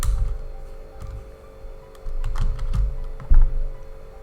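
Someone types code on a computer keyboard in quick irregular bursts of close, crisp key clicks, with a brief pause and a louder cluster near the end over a faint steady hum, no speech.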